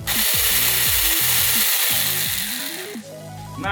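A Makita-compatible 18V electric pruning shears motor whirs steadily and loudly, its pitch rising and falling in repeated surges as it revs, then winds down near the end; no one speaks.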